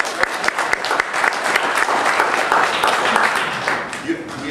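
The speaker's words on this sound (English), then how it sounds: "give yourself a round of applause" A political gathering's audience giving a round of applause, brisk crowded clapping with sharp individual claps standing out, sustained throughout and fading slightly at the end, with voices in the crowd.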